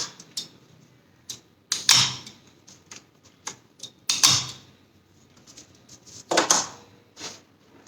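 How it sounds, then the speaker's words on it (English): A stapler drives staples into paper during a hand exercise for ALS and MND patients, with several sharp separate clacks spaced a second or two apart against a quiet room. "We can also use activities like putting staples over the paper."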